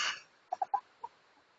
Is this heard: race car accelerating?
no